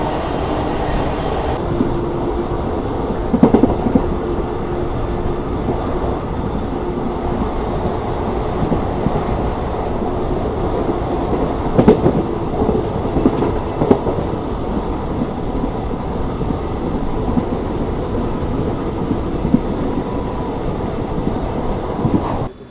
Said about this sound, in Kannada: ಗೂಡ್ಸ್ ಟ್ರೈನ್ಗೆ ನಮ್ಗೆ ಈಗ ಪ್ಯಾರಲಲ್ ರೇಸ್ ಹತ್ತೈತಿ